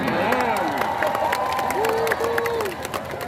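Audience at a religious sermon breaks into clapping and cheering, a dense crowd wash with a voice rising and sliding above it.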